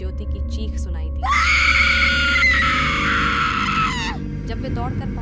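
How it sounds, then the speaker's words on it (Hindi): A woman's long, piercing scream rings out from inside a temple in a horror tale, rising sharply, holding for about three seconds and cutting off, over a low droning background. "अचानक टीम को मंदिर के अंदर से ज्योति की चीख सुनाई दी।"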